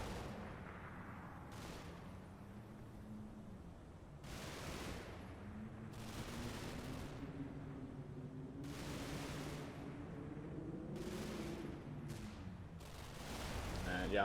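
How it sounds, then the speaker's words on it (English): Mortar rounds in the wargame Combat Mission land as a series of muffled, booming impacts at irregular intervals, with someone talking over them. "More mortars in the middle."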